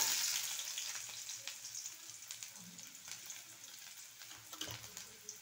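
Finely chopped garlic and onion sauté in a ladle of oil, a faint crackling sizzle with light scattered stirring taps, quiet and close.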